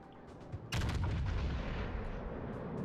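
Heavy naval guns boom in a battleship video game, one loud blast at under a second followed by a sustained rumbling roar of gunfire that carries on to the end.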